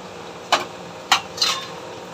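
Fried raw mango pieces dropped into a vessel give three short, separate rattling clinks about half a second apart, close and crisp, over faint room noise.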